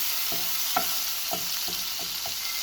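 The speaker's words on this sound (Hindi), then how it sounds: "सबसे पहले हम एक पैन लेंगे, इसमें ऐड करेंगे मक्खन।" Butter melts in a frying pan with a continuous soft sizzle. Several light utensil taps against the pan come at irregular intervals, close by, with no voices.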